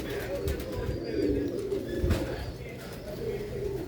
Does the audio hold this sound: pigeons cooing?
yes